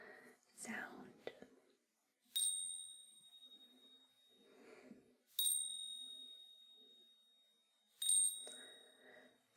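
Small bells are struck three times at even intervals during an ASMR massage self-care ritual. Each strike gives a clear, ringing tone that slowly fades away, between soft whispering.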